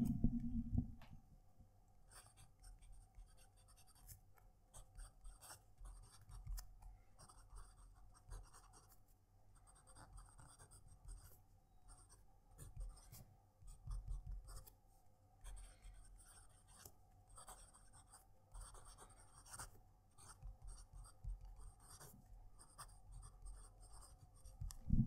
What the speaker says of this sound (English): That is definitely a louder pen to write with when compared to the Pilot